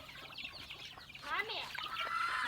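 Chickens clucking nearby outdoors, soft scattered clucks and squawks rising toward the end.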